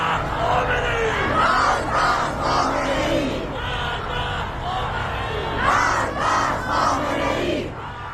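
Large crowd in Iran chanting slogans against the dictator, a dense, loud outdoor roar of many voices in rising and falling waves, continuous throughout with no clear pauses.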